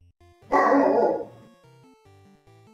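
A Newfoundland dog lets out one loud, close bark that trails off, heard over a quiet electronic video-game melody.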